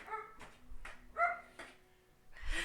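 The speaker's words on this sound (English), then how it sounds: "Also, excuse my dogs if you can hear them." Several dogs, including a restless puppy, give short barks and yips with whimpering during a tabletop roleplaying session, the sounds scattered and uneven at moderate distance.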